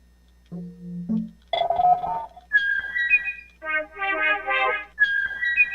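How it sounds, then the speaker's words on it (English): A synthesized whistle patch played on an electronic music setup: a low held tone, then a run of bright, clean whistled notes in quick melodic phrases, close and clear, with short gaps between phrases. "let's play with this whistle right here"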